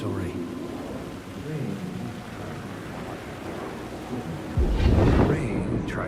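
Steady rain pours in a night scene from the video game Alan Wake 2, with a loud, close thunder rumble rolling in near the end over the constant downpour.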